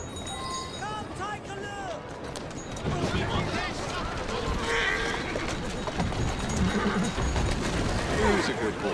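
A horse whinnies with a wavering cry in the video game Assassin's Creed Syndicate, and hooves clop steadily over a busy, noisy background with bird-like chirps.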